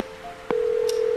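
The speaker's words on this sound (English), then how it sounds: "He's calling Jerry" A telephone number is dialed in the Scratches: Director's Cut PC game, brief tone blips ending in a steady, clear tone that holds on, with faint background hiss.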